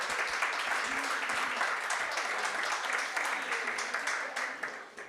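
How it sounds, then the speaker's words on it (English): Applause from an audience at a Black History Month recognition event, a continuous crowd clapping held at a moderate level, with a few voices mixed in, tapering off at the end. "Round of applause for all of them."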